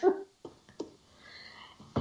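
A few sharp coughs at close range, one strong burst at the start followed by smaller separated coughs and a final one at the end.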